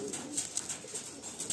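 A Madrasi pigeon at a Kolkata loft gives soft, repeated cooing calls in quick succession, faint and close amid a quiet background.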